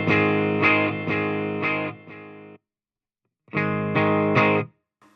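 Electric guitar played through a Fender Champion II 50 amp on its clean channel, ringing strummed chords in two bursts separated by a short silence, close and loud with no talking.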